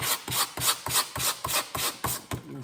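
A knife blade is rubbed back and forth on 100 grit sandpaper. About nine quick, even rasping strokes follow one another in a steady rhythm, close and alone.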